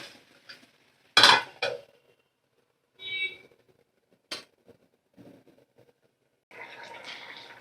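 A lid is set over a pot of potatoes, cauliflower and broccoli, with one sharp metallic clank followed by a few lighter clinks and scrapes between quiet gaps.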